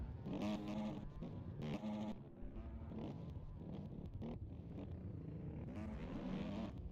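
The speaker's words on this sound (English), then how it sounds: "it sounds to be a two-stroke in front of him" A two-stroke enduro motorcycle races along a rocky course, its high revving engine buzzing steadily at a distance with rising and falling pitch as it accelerates and shifts.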